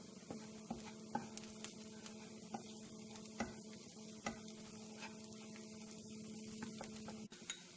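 Onions sautéing in a pan for prawn masala, a steady quiet sizzle broken by regular scraping and tapping strokes of a spoon stirring every second or so, with a faint hum underneath.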